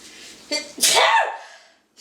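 A single sharp sneeze, close and loud, with a quick breathy intake before the explosive burst, then quiet.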